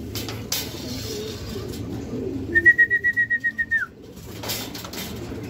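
Racing pigeons arrive at a loft trap during a pooling race, with soft cooing and a clear rising whistle-like call, plus a quick run of rhythmic wing flutters; the sounds are close and nobody speaks.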